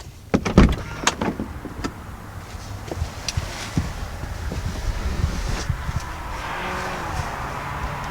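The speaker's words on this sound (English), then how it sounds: "When you turn the vehicle off, your seat and steering wheel will move out of the way to help with easier entry and exit." An electric motor hums as the power seat and steering wheel of a 2020 Toyota Tundra move, a steady whir inside the cab that follows a few close thumps and clicks.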